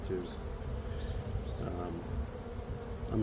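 A honeybee colony buzzing steadily and densely at close range as the hive is opened for a spring inspection, with no voices over the hum.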